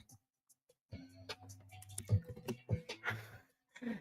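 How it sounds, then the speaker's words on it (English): Keys clatter on a computer keyboard in quick irregular bursts, fairly faint and close, alongside a low tonal hum and brief murmurs of a voice. "It popped as I was typing up the signal."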